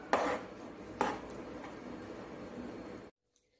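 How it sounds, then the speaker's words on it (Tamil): Moong dal sweet stirred in a pan, two sharp metal clanks of the spoon against the pan followed by a steady soft scraping, then abrupt silence; no speech. "இப்ப நம்ம இத வந்து கொஞ்சம் கைவிடாம கிளறிக்கோங்க"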